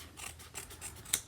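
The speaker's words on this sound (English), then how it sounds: "I'm going to use my scissors." Scissors trimming paper for a handmade card, several quick close snips in a rapid sequence ending in one sharper cut, with no talking.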